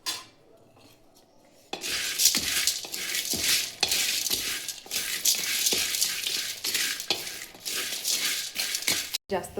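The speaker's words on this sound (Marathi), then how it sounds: "आता आपल्याला हे पूर्ण भाजून घ्यायचे आहेत." Whole spices for a spicy homemade black masala dry-roast in a pan, giving a dense crackling rustle with frequent scraping stirs after a quiet start, and a voice speaks briefly.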